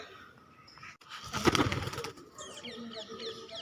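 A brief burst of a pigeon's wings flapping close by as it takes flight, lasting under a second, with faint background chatter and bird sounds.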